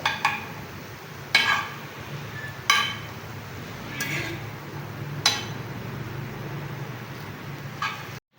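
A spoon knocks and clinks against a tawa pan every second or so, mixing chicken and eggs with yogurt, over a soft steady sizzle.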